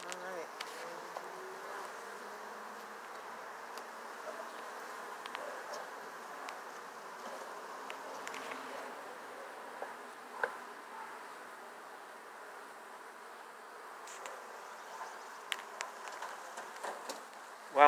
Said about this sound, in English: this one is like loaded with honeybees